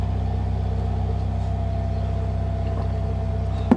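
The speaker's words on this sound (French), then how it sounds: "quand il démarre sa voiture et il reste 1 heure avant de partir" A neighbour's car sits idling after being started, a steady low engine rumble with a constant hum, continuous and fairly close throughout, with a brief knock at the very end.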